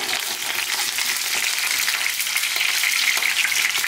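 Stuffed capsicum frying in a pan on a medium flame, giving a loud, dense, unbroken sizzle close by that stays even throughout with no voices.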